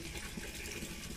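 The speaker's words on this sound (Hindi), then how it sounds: "बाल्टी में पानी भरा जा रहा है" Water running from a tap into a bucket during household cleaning, a steady rushing gush throughout, close and continuous with no talk.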